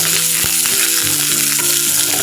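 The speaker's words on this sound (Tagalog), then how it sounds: "Tapos din natin isunod ang sibuyas" Onion fries over medium heat in a pan, a loud, dense, close sizzle crackling without a break and mixed with faint stirring knocks.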